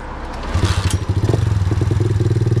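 A KXD 125 motorcycle starts after a few clattering thumps and settles into a fast, steady, close single-cylinder putter as it moves off.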